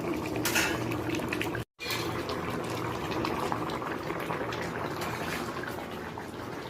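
Magur catfish curry with vegetables simmers in a covered pot, a steady close bubbling and boiling with faint liquid spatter, broken by one brief silent gap.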